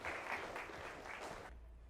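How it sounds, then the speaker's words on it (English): A fairly faint, dense wash of audience applause welcomes Dr. Michael Ha'apio to the stage, steady clapping that cuts off abruptly after about a second and a half. "Let's give him a big round of applause, please."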